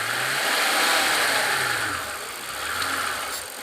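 A Mercedes CL65 AMG engine revs up close, a loud sustained roar that swells, dips briefly and rises again with no talking.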